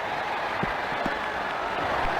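Crowd applause follows a cricket shot in the video game Ashes Cricket 2009, a steady wash of clapping and cheering heard briefly at moderate volume.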